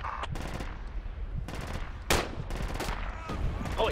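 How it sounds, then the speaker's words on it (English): Gunfire in the military shooter game Project Reality: repeated bursts of automatic fire and single sharp shots at moderate volume, with sporadic faint voice chat from players. "I'm gonna shoot him."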